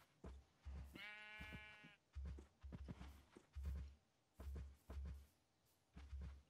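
A sheep bleats once in the video game Minecraft, a short wavering cry set over repeated soft, dull thumping steps, with no talking.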